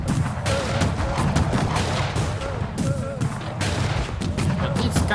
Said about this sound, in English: Why my musketeers are not shooting? Okay, they are actually shooting.